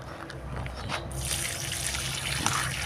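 Water pours and trickles steadily from a watering can onto soil and leaves of autumn-planted plants, a close, continuous splashing flow that grows fuller partway through.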